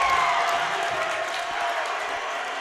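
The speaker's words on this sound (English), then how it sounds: "Crowd's getting into it a little bit now" A crowd at a girls' high school basketball game cheers and claps, a broad sustained roar of voices and applause with scattered whoops, building slightly during play.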